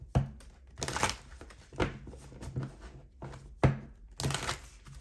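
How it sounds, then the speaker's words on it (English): Tarot cards are shuffled by hand at close range, a series of soft papery riffles and slaps in irregular bursts, quiet and with no talking. "Let me shuffle."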